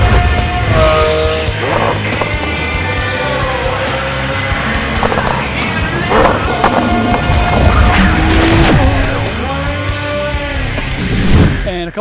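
A Lamborghini is driven hard. Loud engine revs rise and fall in sweeping bursts, mixed with tire squeal and road noise, and stay strong and close throughout.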